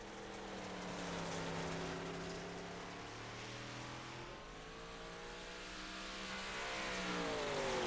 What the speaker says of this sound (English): We don't have the car sounds on.